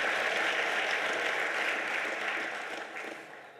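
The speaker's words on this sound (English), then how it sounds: "please don't applaud too much before I start speaking" A university lecture hall audience applauds, a dense, steady wash of clapping that starts loud and gradually thins and fades over a few seconds.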